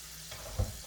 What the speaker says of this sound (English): we're going to let that sit a little bit and saute itself a little bit.